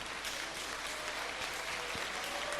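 Quiet, sustained clapping from an audience at a speech on gay rights, applauding Iceland and Argentina for legalizing gay marriage; a soft, even patter heard at a distance.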